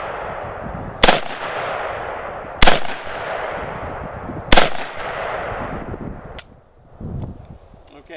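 Three sharp, loud shots from a Century Arms C-93 carbine fired with the stock folded down, spaced about one and a half to two seconds apart, each with a ringing decay, followed by a fainter clack of the action at the end.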